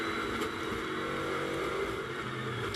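Lamborghini GT race car during a pit stop at Misano in a GT World Challenge Europe race, with a steady, dense engine drone and a broad noise bed held at constant loudness throughout.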